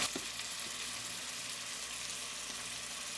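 Butter, chopped onion and ginger garlic paste fry in oil in a pan for a turkey noodle soup, a steady close hiss and sizzle with a few faint stirring clicks, no voices.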